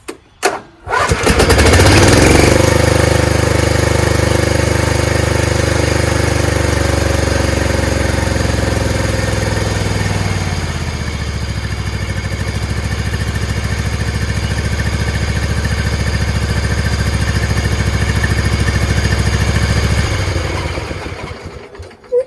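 A Craftsman PYT9000 two-cylinder engine running on one cylinder sputters to life and runs loudly and steadily, its rumble dipping briefly midway before cutting off near the end.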